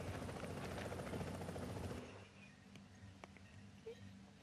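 A helicopter in The Division video game drones loudly with a steady rotor roar for about two seconds, then drops to a quieter, more distant thrum.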